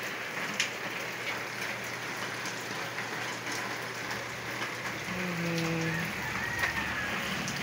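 Steady light rain patters and hisses continuously, with a faint low hum underneath and occasional soft drips standing out.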